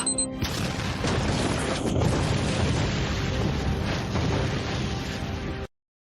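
A blast goes off after a countdown and becomes a loud, dense roar that holds steady for about five seconds before cutting off abruptly.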